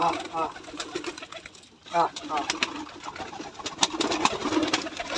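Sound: pigeons cooing

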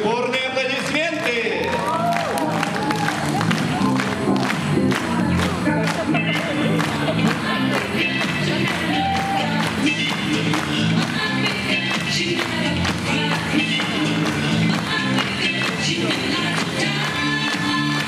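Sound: audience applause

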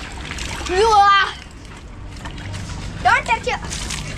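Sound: children splashing water during Holi play

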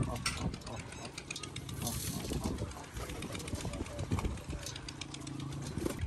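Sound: pigeons cooing

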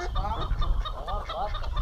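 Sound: duck calling

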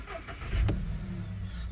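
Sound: Volkswagen Touran 1.6 MPI engine starting

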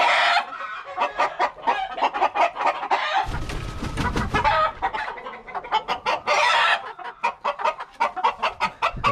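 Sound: rooster and hen clucking

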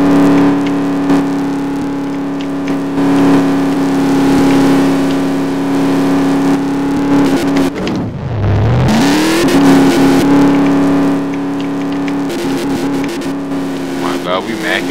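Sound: car drifting in a Roblox car video game

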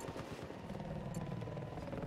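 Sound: enemy helicopter in video game Battlefield 4

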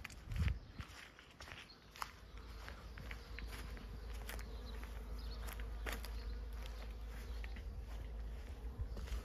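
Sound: Buckfast honeybees flying around

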